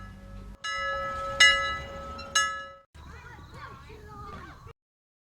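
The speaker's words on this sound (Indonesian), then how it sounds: "suara bel terdengar" A school bell rings during an Indonesian school drama, a bright tonal ringing struck twice with lingering decay, then fading as noisy chatter and movement follow.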